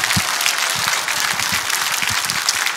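A church audience at a gathering applauds, loud continuous clapping from many hands with some distinct nearby claps standing out.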